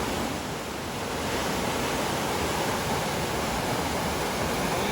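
A waterfall rushes in a continuous, loud, dense roar of falling water, steady throughout with no voices.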